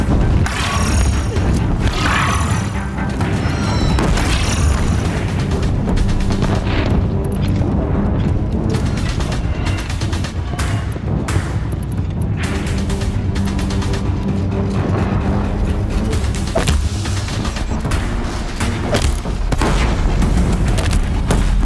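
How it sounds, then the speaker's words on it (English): Deathbringer war machines fire continuously in the Horizon Zero Dawn final battle, a relentless barrage of deep booms and explosions layered over rumbling, with sharp bursts and a brief high whine early on. "Deathbringers keep firing."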